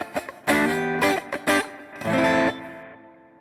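Tele-style electric guitar from Glarry played through its neck pickup, a few short strummed chords and notes with gaps between, ringing out alone and fading at the end.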